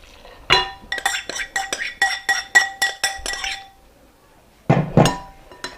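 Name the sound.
mixing muffin mix ingredients in a bowl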